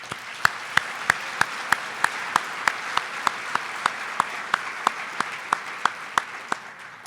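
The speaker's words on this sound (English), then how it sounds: "Please join me in a round of applause for our colleagues at the Chamber." Audience at a Chamber of Commerce State of the Town event claps in an even, steady rhythm, sharp evenly spaced claps roughly three per second over a low background murmur.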